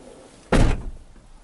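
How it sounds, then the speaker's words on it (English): A single loud, sharp slam of a 2009–2012 Dodge Ram 1500 truck door, close by, followed by a brief fading rumble in an otherwise quiet setting. "And then when you open the door,"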